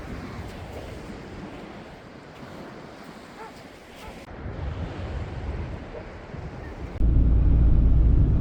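Waves wash in at Gairloch Beach on Scotland's west coast, a broad surging roar mixed with gusty wind buffeting the microphone, growing louder and rougher toward the end.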